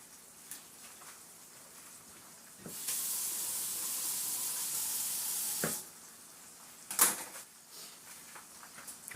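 Shrimp for a po' boy fry in hot oil, a quiet hiss that swells into a steady sizzle for a few seconds, then falls back, with occasional sharp crackles and clatter.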